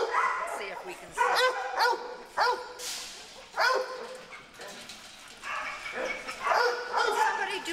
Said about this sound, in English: Yeah, it's a cute puppy.